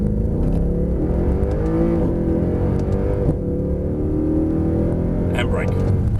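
A Mercedes-Benz C63 Black Series accelerates hard on track, its engine note climbing steadily before a quick gear change and another rising pull, loud and close throughout.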